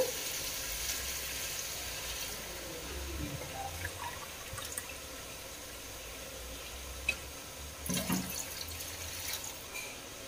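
Water pours and trickles into a cooking pot of rice at a low, steady level, with faint splashes and a few clinks near the end.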